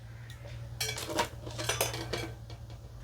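A metal pan is set down on a stove, giving a cluster of clanks and clinks over a low steady hum, followed by a few lighter metallic taps.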